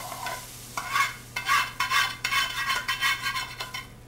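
Tempering stirred back into dal in a pot, with repeated scraping strokes of a spoon against the pan in an uneven rhythm over a soft sizzle, close and fairly clear.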